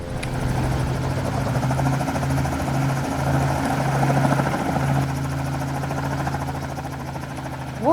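A helicopter in the video game Mad City flies at a steady distance, its rotor thudding in a continuous throbbing drone that holds for several seconds with a slight rise in intensity near the middle.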